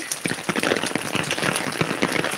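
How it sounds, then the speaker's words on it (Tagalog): Heavy rain pelting down while someone walks, a dense, steady crackling patter of drops close by with no break. "Pasensya na, lakas pa naman ng ulan"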